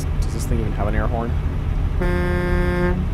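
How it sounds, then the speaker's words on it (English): A truck's air horn sounds in American Truck Simulator, one long, loud, steady blast after a brief voice, holding for about a second before cutting off. "Okay, it does have an air horn"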